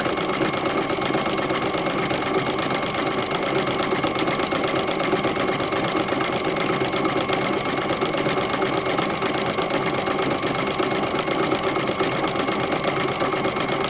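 A vintage sewing machine stitching quilting work with a wing needle at a steady, moderate speed: a close, continuous rapid mechanical chatter with an even rhythm throughout.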